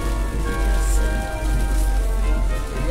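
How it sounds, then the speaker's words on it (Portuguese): Heavy rainstorm with wind pouring steadily over an outdoor protest in Blumenau, Santa Catarina, a dense continuous hiss of rain with low rumbling gusts throughout. "Olha o temporal."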